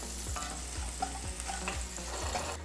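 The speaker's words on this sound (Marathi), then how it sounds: "बारीक चिरलेला लसूण जवळपास मी सात आठ पाकळ्या बारीक कापून घेतल्या याला परतून घ्यायचं आहे" Finely chopped garlic, about seven or eight cloves, sautés in hot oil in a home kitchen pan, a close steady sizzle with periodic low stirring scrapes roughly every half second.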